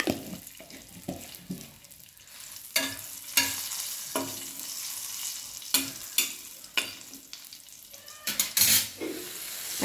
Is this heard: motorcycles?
no